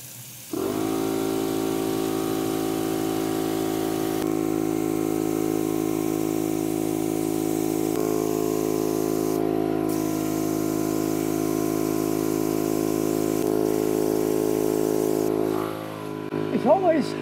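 A spray gun applies glaze to large pottery pots with a loud, steady whirring hiss that runs unbroken for about fifteen seconds and then cuts off, with no talking over it.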